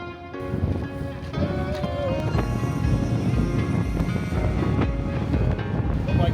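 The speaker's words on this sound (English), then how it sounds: "The wind hit me." Strong New Zealand wind buffets the microphone in loud, continuous gusts, a rough roaring rush that swells and holds without letup.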